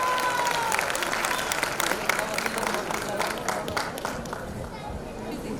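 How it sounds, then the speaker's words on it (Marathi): Audience applause at an annual gathering after a prize is presented, a dense steady wash of clapping at full strength that fades slightly toward the end. "जोरदार टाळ्या होत्या."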